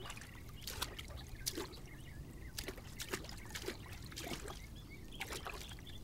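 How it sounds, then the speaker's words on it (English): A woman rinses sand in a waterway to pan for gold in Madagascar, with water trickling and splashing in irregular spurts and small pours. The water is heard close and continuous over a low outdoor background, with no talk. "See how she is rinsing? After rinsing, just a speck of gold remains in that filter."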